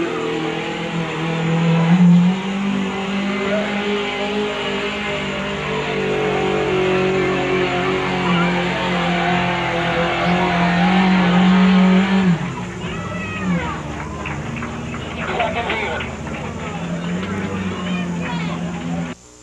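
Racing truck, an '87 Toyota, at a provincial timed event, its engine roaring and revving loudly for about twelve seconds before easing off, with a voice talking over the noise.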